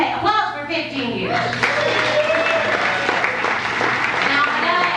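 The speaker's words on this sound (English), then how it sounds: "applause for 15 years." Audience applause breaks out for a married couple, Nathan and Susie, parents of three acrobatic children, at a cabaret show, a steady wash of clapping that carries under a host's continuing voice for several seconds.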